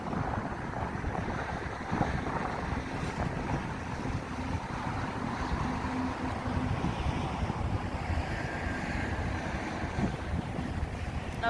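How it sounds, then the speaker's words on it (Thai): Strong wind roars continuously across open salt fields beside a roadside café, a steady broadband rush with buffeting on the microphone and no voices. "ลมแรงมากเลยค่ะลมแรงมากเลย"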